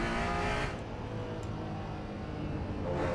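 Race car engine in the racing game Assetto Corsa EVO, a sustained loud buzzing roar at high RPM with a brief dip mid-clip before climbing again, no voices.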